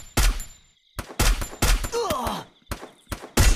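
Free Fire game gunfire with headshot hits: loud, sharp bursts of shots in separate clusters with brief silent gaps between them, close and punchy.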